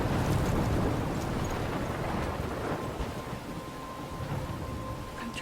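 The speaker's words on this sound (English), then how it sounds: "I'm trapped in a storm?" A storm in the video game Life is Strange: dense, constant rain hiss and wind with a low rumbling thunder bed, steady and enveloping, with no speech.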